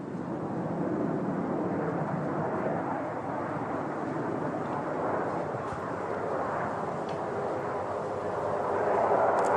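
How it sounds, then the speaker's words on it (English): HAL Tejas fighter jet making a high angle of attack, slow speed pass at about 110 knots at the Bahrain air show, its engine a loud continuous roar that holds steady and swells slightly toward the end. "the military high angle of attack, low speed run, coming right to about 110 knots when he comes from pass from the left to the right"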